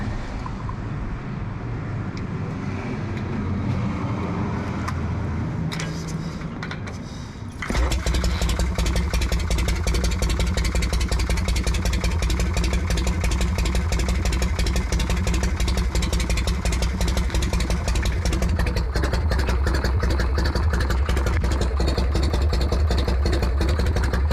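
A 1973 Harley-Davidson Shovelhead chopper engine cranks and fires up, then settles into a loud, close, steady lumpy idle that runs uninterrupted to the end.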